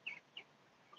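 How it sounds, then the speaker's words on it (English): A large backyard rooster gives two quick, soft clucks close to the microphone, the second shorter than the first, with a faint chirp near the end against quiet surroundings. "Look at Big Rooster right there."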